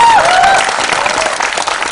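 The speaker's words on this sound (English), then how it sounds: "please give them a huge round of applause" A press-meet audience breaks into a round of applause, a steady wash of many hands clapping at fairly close range and loud, with a brief higher tone sliding through near the start.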